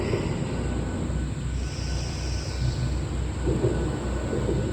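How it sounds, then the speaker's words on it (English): A loud street sweeper rumbles steadily nearby, a dense, continuous mechanical roar that fills the whole stretch without letup. "Now we're gonna have some loud sweeper thing going by."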